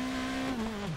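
The engine of a Peugeot 208 rally car in DiRT Rally 2.0, heard from the bonnet view, holds a steady tone that drops in pitch near the end of a brief, loud burst.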